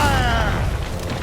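A ship's cannon booms in the video game Assassin's Creed Rogue, one loud, heavy blast that rumbles and decays over about a second.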